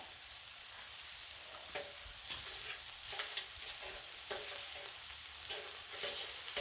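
Taco meat sizzles on a Blackstone griddle, a steady hissing fry with occasional scraping stirs and bursts, no talking.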